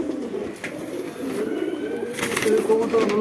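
Racing pigeons coo together in a loft, a steady chorus of low, rolling calls up close with a faint bit of background sound.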